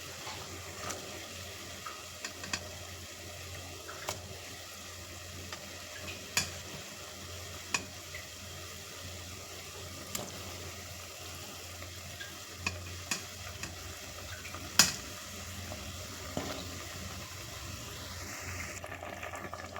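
Fish heads going one at a time into a pot of simmering fish head curry, a soft steady bubbling and sizzle with scattered small clicks and plops from a spoon or pieces dropping in, quiet and without talk.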